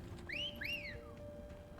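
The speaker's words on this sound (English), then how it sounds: "Clive, maybe don't do that whistle at your fucking chocobo" Clive whistles for his chocobo in Final Fantasy XVI: two clear rising-and-falling whistle notes in quick succession, loud and close over soft, low game ambience.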